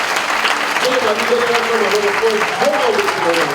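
Church congregation applauding for the Lord in a loud, continuous wash of clapping, while a voice sings or calls out over the top throughout.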